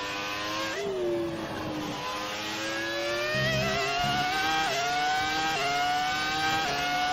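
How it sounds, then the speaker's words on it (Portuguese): A Formula 1 car engine in the video game F1 2018 screams at high revs near 320 km/h, pitch climbing through repeated gear shifts, loud and continuous throughout. "o barulho desse carro é muito da hora"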